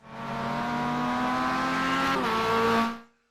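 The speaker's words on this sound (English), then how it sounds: "Just get to see my car flying past and me jabbering on." A Mazda MX5 production race car in iRacing at Mount Panorama roars past at a steady high engine pitch, the tone dropping sharply as it passes before cutting off.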